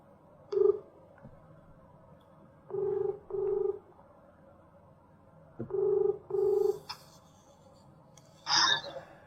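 Phone keypad tones beep in short pairs, a lone beep then two spaced double-beeps, followed by a brief rustle; quiet room background.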